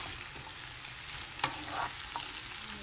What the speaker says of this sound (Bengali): একটুখানি ভাজা ভাজা করে নিব পেঁয়াজ কাঁচামরিচ দিয়ে